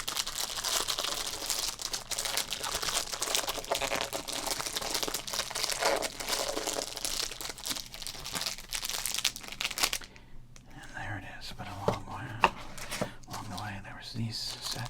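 The plastic wrapper of a 1987 Topps baseball card rack pack is torn open, producing loud, dense crinkling for about ten seconds. It then falls to quieter, sparse rustles with occasional sharp handling sounds and a voice speaking.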